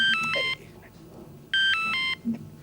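A mobile phone rings in a 90s Hindi comedy show, sounding two loud bursts of electronic melodic tones separated by a pause, with faint background voices.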